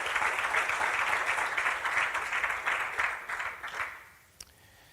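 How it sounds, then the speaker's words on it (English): Audience applause at a football awards show for the Coaches of the Year nominees, a dense sustained round of clapping that gradually fades out over several seconds. "Let's give them another round of applause"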